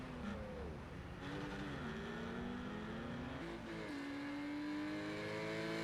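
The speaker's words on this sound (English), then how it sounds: "Those cars should be sounding a lot louder now." GT4 race car engines in a racing video game at Rouen Les Essarts Short whine and rev steadily, pitch rising and falling as they accelerate and shift, with a continuous roar of nearby traffic.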